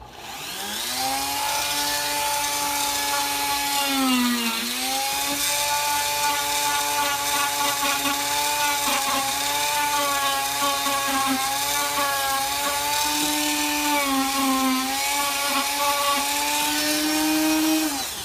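A power tool scuffs the fiberglass of a boat hull, giving a loud, steady, high-pitched whine with shifting pitch that runs without a break from start to finish.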